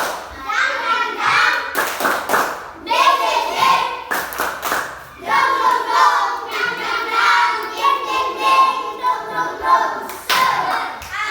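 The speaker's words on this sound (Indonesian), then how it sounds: "Tepuk semangat." Schoolchildren in an Indonesian classroom perform a rhythmic spirit clap, bursts of hand claps in patterned groups mixed with children's chanting voices, lively and close, with a teacher's voice between sections.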